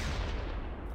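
A single heavy boom from an 8.8cm gun firing in Close Combat 3 rumbles broad and deep across a brief moment, with no voices.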